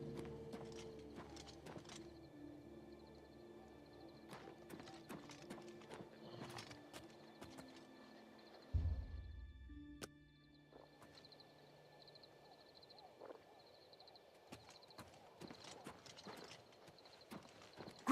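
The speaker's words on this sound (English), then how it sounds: "He rode the horse over here." Horse hooves clip-clop from a ridden horse in the Elder Scrolls IV: Oblivion Remaster video game, a run of quick, moderately close hoof strikes with a louder thump midway, over a low ambient game background.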